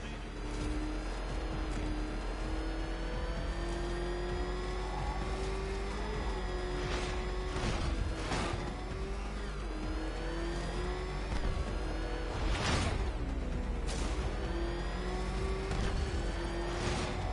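Batmobile engine from a Batman video game, revving and racing loudly at close range with a steady high whine, several sharp surges and passing roars over a constant background of game music and effects.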